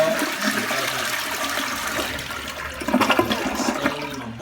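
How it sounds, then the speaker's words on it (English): A toilet flushes in a home bathroom, a steady rushing gush of water that swells louder near the end, close by with no talking. "So I'm gonna flush that"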